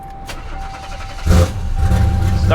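A 1987 Buick Grand National engine cranks and catches around midway, then settles into a rumbling idle with open exhaust that stays steady and close.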